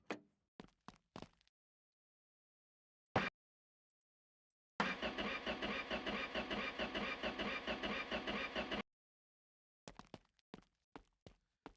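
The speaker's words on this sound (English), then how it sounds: "let's give her a whirl and see if she fires up." A Dodge Charger dragster engine cranks and catches, then runs loudly and steadily for about four seconds before cutting off, with clunks and knocks of garage work before and after.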